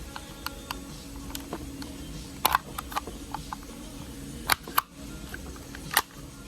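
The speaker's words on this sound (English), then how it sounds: "you're going to pop these tabs loose on both sides" Plastic tabs being pried loose on both sides of a Hyundai/Kia window switch panel, giving a few sharp clicks and snaps over faint room noise, with the loudest pops coming near the end.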